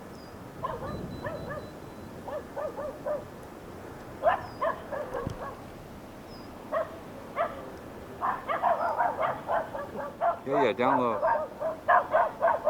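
Dogs bark in short repeated bouts at an RC glider flying over treetops, the barks coming from some distance and growing more frequent, with yips mixed in, while someone speaks briefly nearby.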